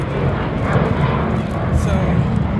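An airplane's engines at an airport give a loud, continuous broadband roar, while a person talks over the noise.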